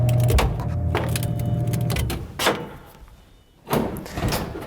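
A vending machine door being opened: a sustained rattling, scraping rumble with a couple of thumps and a heavy clunk near the end, close and fairly loud.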